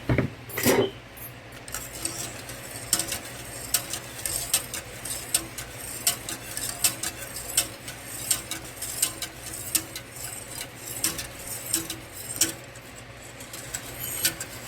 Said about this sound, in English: you have to keep stirring to avoid any lumping